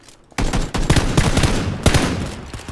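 Rapid gunfire in PUBG Battlegrounds, a dense stream of loud, close shots with repeated sharp cracks over about two and a half seconds after a brief quiet start.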